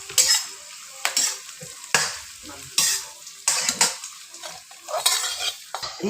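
Garlic fries in oil in a pan for pirandai thuvayal, stirred with a metal spoon in a regular rhythm of loud clinking scrapes over a continuous sizzle.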